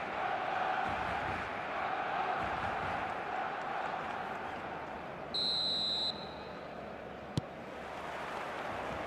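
A stadium crowd in the eFootball video game roars in a continuous, distant-sounding wash, with a brief electronic tone and a sharp click standing out near the end.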